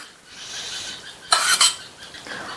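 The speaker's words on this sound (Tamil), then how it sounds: "தேங்காய் பால் சேர்த்துட்டு நல்லா ஒரு தடவை இந்த மாதிரி ஒன்று போல மிக்ஸ் பண்ணி விட்டுட்டு" Soaked beaten rice (aval) being stirred with coconut milk in a kitchen vessel for a sweet dish, a soft scraping clatter of a spoon against the pot with a brief louder burst of clinks midway.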